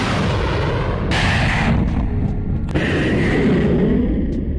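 A booming, reverberant launch blast from a homemade Patriot-style missile rocket, a heavy low roar with sharp cracks and echoing rumble filling the short stretch.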